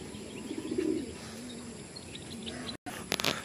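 Soft cooing of pigeons close by, with low repeated coos and a few brief chirps and flutters near the end over faint background noise.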